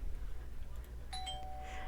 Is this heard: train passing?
no